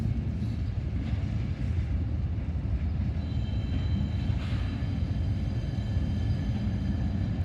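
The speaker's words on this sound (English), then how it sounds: "we actually have a pusher loco here" A CSX freight train with a pusher locomotive, an ES74AH numbered 897, rolls past in a steady, loud, continuous rumble of wheels and cars, with no pauses across the whole stretch.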